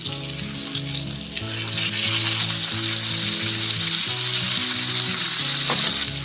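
A New York strip steak sizzles loudly and steadily in a hot sauté pan as it is flipped, the frying hiss continuous throughout with soft tonal music underneath and no talking.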